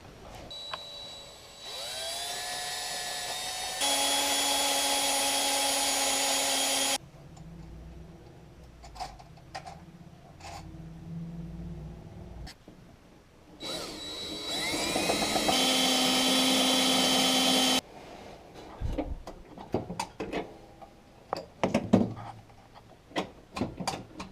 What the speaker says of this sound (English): just stick a drill bit and then just make them teeny tiny bit bigger just so they fit snug